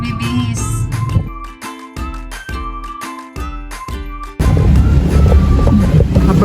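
Wind blows outdoors where laundry hangs on a line, with bright chiming and tinkling tones at first, then a sudden loud gust buffeting the microphone with a steady roar that lasts to the end.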